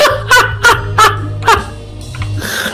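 Ducks at a fountain in the video game Two Point Hospital give four loud, honking quacks in quick succession over a low, steady hum, followed by softer bird noises.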